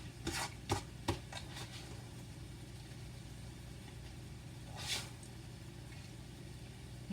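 A Pampered Chef mix and chop breaks up sausage and onion in a pan, heard as a quick burst of sharp chopping clacks, a pause, then a single scrape, faint over a steady low hum.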